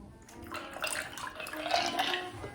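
Liquid is poured off while a gin martini is being made, giving a faint, irregular splashing and trickling that rises and falls for a couple of seconds.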